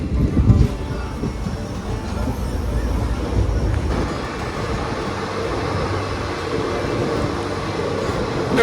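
A passenger train from Alipurduar to Malda Town rumbles steadily at Bagdogra station platform, its low mechanical noise filling the scene with a brief louder clatter at the start.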